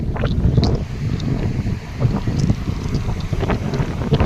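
Sea waves and strong wind roll in at Mastram beach, where the current is running hard; a steady broadband wash with gusting wind buffeting the microphone and bursts of surf, no voices.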